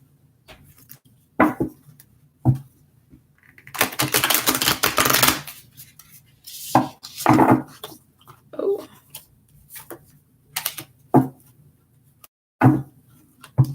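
Tarot cards are shuffled in short bursts: scattered taps and flicks, then a longer riffling stretch, followed by more brief card handling sounds, close and fairly quiet.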